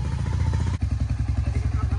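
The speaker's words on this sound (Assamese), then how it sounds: "এফালে বাইক খানো উলিয়াই দিলো" A motorcycle being wheeled out and started, its engine chugging in a quick, even putter close by, with a brief break partway through before it settles again.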